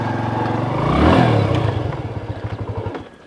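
A motorcycle engine that swells and revs near the middle of the short clip, then settles into a pulsing, stuttering idle-like rhythm toward the end, close and fairly loud.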